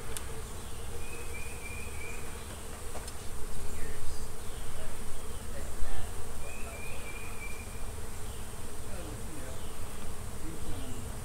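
Bees swarm around hives built into the walls of a house, a dense steady buzzing that fills the whole stretch, near and constant, with occasional individual insects passing closer.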